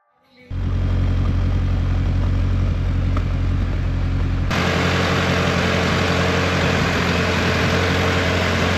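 A 1991 Honda engine fitted with a Skunk 2 exhaust idles steadily and loudly, a constant low rumble that starts after a brief pause and grows rougher and fuller partway through, with no talk.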